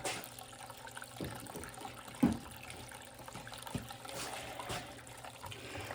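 Water is poured to wet down gold paydirt, a soft intermittent trickle with a few small clinks and one sharper splash, close and fairly quiet.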